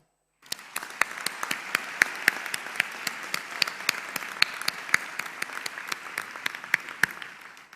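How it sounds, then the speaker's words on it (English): Audience applause at a graduation ceremony at the ECU campus in Sri Lanka: a steady wash of hand claps with sharp, distinct individual claps standing out, sustained at moderate volume for several seconds. "Please join me in applauding all of our colleagues here today."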